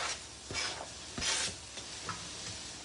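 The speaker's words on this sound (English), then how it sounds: "I'll give this another quick little stir." Onions and carrots stirred in a Brilliance skillet, soft scraping strokes and gentle sizzle at close range, with a few distinct spatula passes over a quiet hiss.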